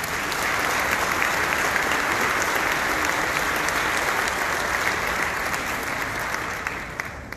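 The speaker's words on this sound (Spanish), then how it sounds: "Un aplauso." An audience at a national industrial convention bursts into sustained applause, loud and dense clapping from a large crowd that holds steady for several seconds before starting to fade.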